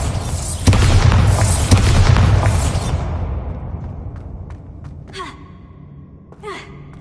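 The Bombarda spell in Hogwarts Legacy goes off as a loud booming explosion that rumbles and fades over a few seconds, followed by a couple of faint game sound effects.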